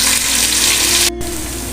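Ginger garlic paste frying in a pan for chicken biryani, a loud, dense, continuous sizzle close up, briefly cut off for an instant before carrying on, with no voices.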